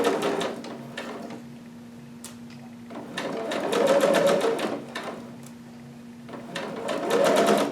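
Fabric runs through a sewing machine in a steady, close mechanical whir with rapid needle ticking that swells and eases in waves, with no pause across the stretch.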